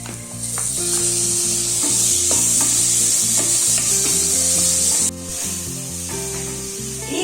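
Chopped tomato hits spice powders frying in a pan for a kurma, giving a steady, close sizzle with stirring scrapes over background music.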